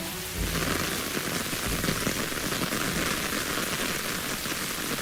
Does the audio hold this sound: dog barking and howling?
no